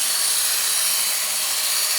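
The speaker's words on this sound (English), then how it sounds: "I'm going to go through the sharpening process just as I did with the red belt." A Work Sharp powered belt sharpener runs against a knife blade, giving a steady, close, loud abrasive whir with a bright grinding hiss throughout, without any talking.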